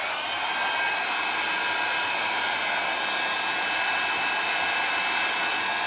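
Crafting heat tool on a low heat setting blows hot air for card making, a steady loud close whooshing hiss held without a break and with no speech.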